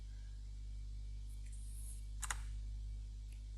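A computer mouse gives a pair of quick, faint clicks over a steady low electrical hum, with a few soft ticks around them.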